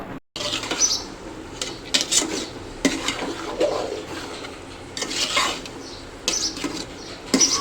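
A spoon stirs lentil and rice khichuri in a cooking pot, making steady close scraping and shuffling with repeated metallic taps against the pot's sides, heard without any talk.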